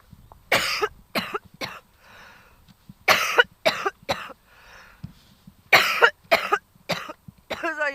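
A person sick with a fever coughs in short harsh bursts, four or five clustered fits separated by quiet breathing gaps, close and fairly loud, with a brief throat-clearing sound at the end.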